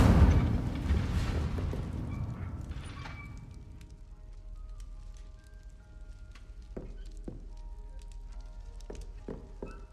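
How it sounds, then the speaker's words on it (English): Casting the Incendio fire spell in the Hogwarts Legacy video game sets things ablaze: a loud, deep fiery whoosh bursts out and fades over a few seconds, leaving faint crackling flames. "Setting things ablaze is certainly cathartic, isn't it? Incendio!"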